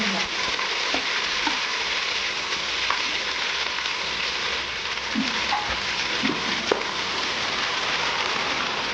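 Whole spices and ginger sizzle in hot oil in a pot, making a bright, continuous hiss like rain. A few soft clicks and pops are scattered through it, and no voice is heard.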